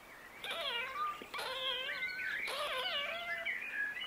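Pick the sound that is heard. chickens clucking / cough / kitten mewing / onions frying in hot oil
kitten mewing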